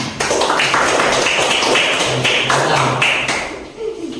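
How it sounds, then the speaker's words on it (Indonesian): A classroom of students clapping hands together on cue, a steady, close burst of patterned claps filling about four seconds before fading out. "Tepuk tangan."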